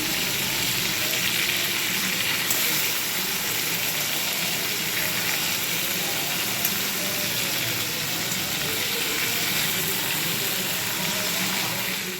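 Bottle gourd curry cooking in a pan, giving a steady, even sizzle and bubbling that holds at the same level throughout, close and unbroken.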